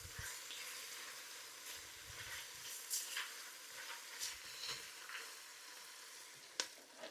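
Minced garlic sizzles in a pot with a faint, steady frying hiss, broken by a few soft pops and one sharper click near the end.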